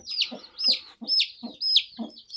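A rooster clucks close by in a quick run of about five sharp, evenly spaced calls, each a bright rasping note, heard on its own.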